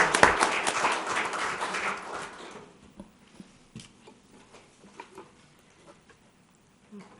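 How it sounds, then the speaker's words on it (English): Applause from the audience at a town council meeting, moderate for about two seconds, then fading into scattered claps and room noise. "We all need a round of applause for that one."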